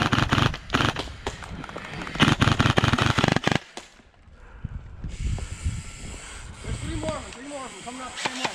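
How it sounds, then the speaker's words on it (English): Rapid bursts of video game gunfire crackle loudly and densely through the first half, then drop to a quieter mix of game noise with a voice speaking over it. "I hear him shooting at me."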